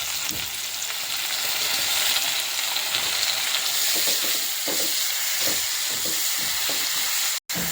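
Ginger and onion paste sizzles loudly in a pan over already-fried onions for an egg paneer curry. The frying hiss is continuous, with faint stirring scrapes, and cuts out briefly near the end.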